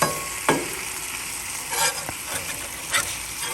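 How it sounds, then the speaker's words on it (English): A pound of bacon sizzling on a Blackstone griddle outdoors at a campground, a steady close crackle broken by a few sharp scrapes and taps of a spatula. "How Jason cooks his bacon on the Blackstone."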